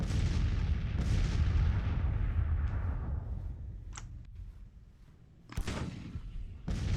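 Artillery in the Civil War strategy game Grand Tactician: The Civil War, a heavy rumbling barrage fading over a few seconds, followed by sharper isolated cannon reports, one distant crack and two closer booms near the end.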